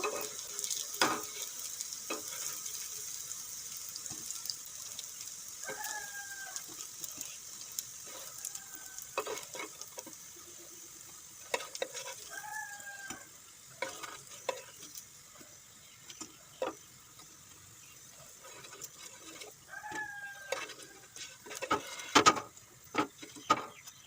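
Cauliflower fritters fry in oil with a faint, steady sizzle. A spatula scrapes and taps now and then as the fritters are moved about the pan, with some brief tonal squeaks. The sound is close and fairly quiet.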